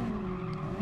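Race car tires skidding under hard braking in Gran Turismo Sport, a steady dense screech of rubber with engine drone, loud and continuous for under a second with no talk.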